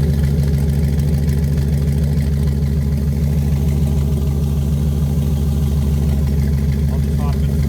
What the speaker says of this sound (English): here's how it sounds when the truck's running.